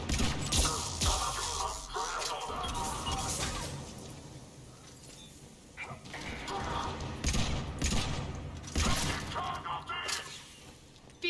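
Dense, continuous gunfire from the video game Mass Effect 3 during a combat push, with crashing, shattering impacts and mechanical clatter layered throughout, loud and sustained across the stretch with a voice speaking underneath at times.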